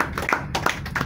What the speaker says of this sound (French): que vous puissiez d'abord applaudir très fort